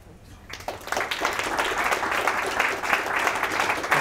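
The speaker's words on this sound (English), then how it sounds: "Can we get another round of applause for Jeff?" An audience breaks into applause for a customer speaker at a tech talk, the scattered claps swelling quickly into a steady round that holds at moderate loudness.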